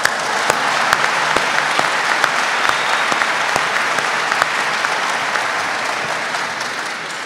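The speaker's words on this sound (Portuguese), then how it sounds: "Nossa, eu vou aplaudir, ficou muito bom isso aí." Steady audience applause fills the room, dense and continuous with sharp individual claps standing out, holding at an even loudness before tapering slightly at the end.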